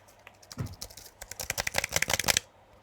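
Keys clacking on an Apple Mac keyboard as it is handled in a garage, a few scattered taps and then a dense run of rapid presses that stops abruptly, close and fairly loud.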